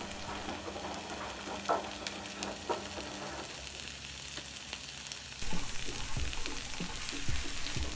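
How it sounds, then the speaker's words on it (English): Onions and peas are being stirred with turmeric, garam masala and pepper in a pan, giving a steady sizzle with soft scraping and clinks as the spices are worked in. "Give this all a nice stir together."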